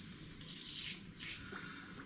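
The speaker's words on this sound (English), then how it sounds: "I'm going to change it into the shower mode, rinse the demijohn" A kitchen tap set to shower mode sprays water into a demijohn, a faint, steady hiss and splash with slight swells, no voices.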